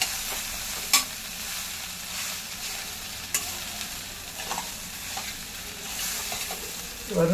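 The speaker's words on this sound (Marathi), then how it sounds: "आणि छान परतवून घेऊया" Kande pohe, flattened rice with onions, is sautéed in a pan, giving a continuous close sizzle with occasional light knocks of a spoon against the pan. No talking.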